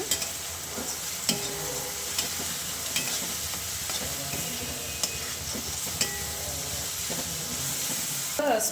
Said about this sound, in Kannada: ಇದು ಚೆನ್ನಾಗಿ ಫ್ರೈ ಆಗಿದ್ದು, ಅದು ಮೆಣಸಿನ್ಕಾಯಿ, ಶುಂಠಿ, ಬೆಳ್ಳುಳ್ಳಿ ಇದೆಲ್ಲ ಹಸಿ ಸ್ಮೆಲ್ ಹೋಗಲಿ, ಅಲ್ಲಿವರೆಗೂ ಸ್ವಲ್ಪ ಚೆನ್ನಾಗಿ ಫ್ರೈ ಮಾಡ್ಕೊಳ್ಳೋಣ